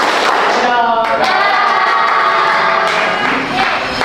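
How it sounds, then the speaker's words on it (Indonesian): A crowd claps together in a quick, sharp burst amid loud, lively voices and cheering, close and energetic throughout. "Satu tepuk buat saya. Dua tepuk buat kalian."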